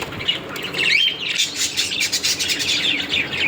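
Pet pineapple conures and lovebirds squawk and chirp while eating a mix of chickpeas and peas, with close, loud, overlapping calls in quick bursts throughout.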